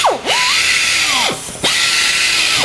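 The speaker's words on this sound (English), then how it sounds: "we're going to take a high speed and a carbide bit." A high-speed air tool fitted with a carbide bit grinds inside a tire during a repair, its whine dropping and rising again in two close, loud bursts as the bit bites and releases.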